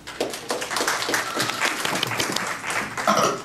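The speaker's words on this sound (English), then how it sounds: "A round of applause for Dr. Murgo." A lecture audience at a 2014 aging-heart medical symposium claps for Dr. Murgo, thick continuous applause from many hands, holding steady and swelling slightly toward the end.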